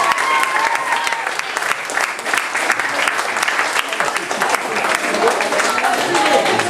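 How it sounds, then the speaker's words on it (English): An enthusiastic crowd claps steadily at a World Championship party, a thick, sustained wash of applause with murmuring voices mixed in, holding its level throughout. "give them all a big round of applause"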